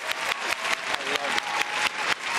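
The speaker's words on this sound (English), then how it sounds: "So we'll give a round of applause for that one too, right?" Applause from a small audience at a virtual fundraiser, with repeated clap bursts at a fairly even rhythm across the moment, moderately quiet and with no talking over it.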